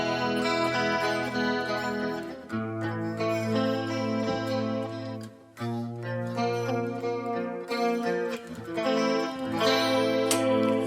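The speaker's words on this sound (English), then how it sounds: "already with the neck pickup in the split mode" Harley Benton DC Custom 2 electric guitar played on a clean tone through a split neck pickup, chords and melodic notes ringing out with chorus-like shimmer, alone and up close.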